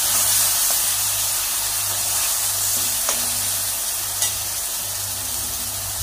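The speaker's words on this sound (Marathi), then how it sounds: "बारीक चिरलेला कांदा टाकल्यानंतर याला परतून घ्यायचं।" Chopped onion and green chillies sizzle steadily in a hot pan while being stirred for a methi palak dish, a loud close hiss with a low hum beneath and a few faint scrapes, no voices.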